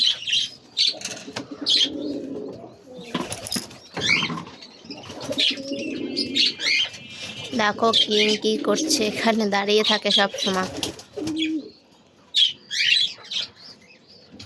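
Pigeons coo and flap their wings inside a new coop while a person talks over them, wingbeats and soft calls scattered through the stretch.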